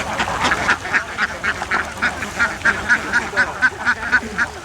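Ducks on a duck farm quack in a steady, rhythmic series of nasal calls, fairly close and loud over a noisy outdoor background.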